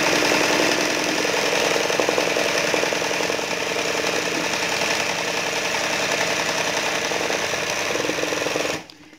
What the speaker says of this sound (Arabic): أنا ولفت ماكينة سانجير.